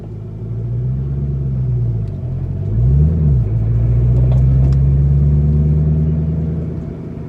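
Low, throaty 2006 Ford GT engine rumble with muffler deleted, rolling along steadily while cruising, with a brief rev swell partway through before settling back into a smooth drone.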